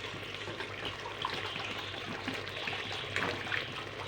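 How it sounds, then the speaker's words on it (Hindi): Water pours into a cooking pot of frying tinda gourd and mutton, giving a continuous splashing, trickling rush over the background sizzle. "साथ ही हम पानी डालेंगे,"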